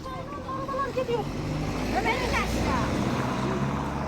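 A motorcycle engine rumbles steadily at close range during apricot picking at a family home, with voices talking over it throughout.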